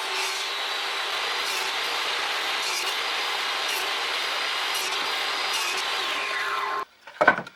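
A power saw cuts wooden boards to length for a vegetable planter in one continuous whining pass of about seven seconds, then stops, followed by a brief clatter.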